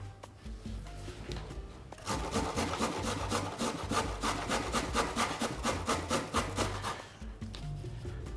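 A carrot is grated over the fine holes of a hand grater for a homemade boiled sausage recipe, making loud, steady rasping strokes in a fast back-and-forth rhythm, close up, with no talking.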